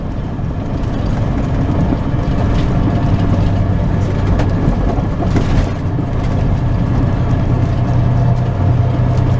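A semi truck loaded to about 80,000 pounds descends a steep hill in Arizona, its heavy diesel engine droning loud and steady from inside the cab with mechanical rattles throughout.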